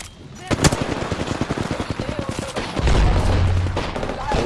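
Rapid automatic gunfire in the video game Apex Legends, a fast loud burst of shots in steady rhythm, followed by a heavier low rumbling blast, with a voice faintly commenting underneath.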